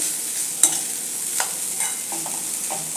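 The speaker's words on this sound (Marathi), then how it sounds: "एक छोटा गुळाचा खडा घेतला आहे तो घालते मिक्स करून घ्यायचं" Bitter gourd sabzi with jaggery being stirred in a pan: a constant hissing sizzle with a few clear spoon scrapes and knocks against the pan, close and fairly loud, with no talking.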